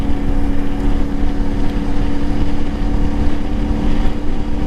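A CFMoto IBEX 450 motorcycle engine runs loudly and steadily during a commute, a continuous droning rumble with some wind noise mixed in.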